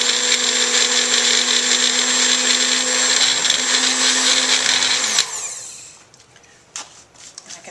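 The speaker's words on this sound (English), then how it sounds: "get my magic bullet to work" A Magic Bullet blender whirs loudly and steadily while blending raw herbal hummus, its motor tone unbroken for about five seconds before it cuts off, leaving only faint clatter and handling noises.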